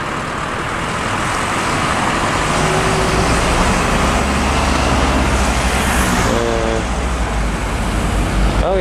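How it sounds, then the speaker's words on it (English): Buses and cars roll along a street in Ashford, Kent, a steady loud wash of engine rumble and tyre noise with heavier bus engines passing close, and brief tonal chirps of a pedestrian crossing signal near the end. "Stagecoach buses."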